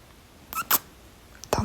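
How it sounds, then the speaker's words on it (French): A cat in a home in the USA gives several short meows, with two quick calls close together and then a louder, longer one at the end, against a quiet room. "De toute façon, il y a 4 chats, frère."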